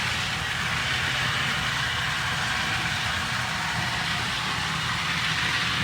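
A repaired model steam locomotive running on a track, giving a steady dense whirring hiss with a faint low rumble, constant and close throughout.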